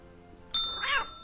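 A cat meowing in the video game Postal 2, a single short close mew that follows a bright metallic ding.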